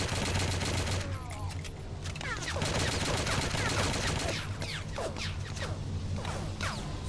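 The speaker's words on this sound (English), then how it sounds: "Someone with a Gatling gun there, by the looks of it." Sustained rapid gunfire from a Gatling gun in the video game Blade of Agony, a dense continuous fusillade mixed with other battle noise and crashes, loud and steady across the whole stretch.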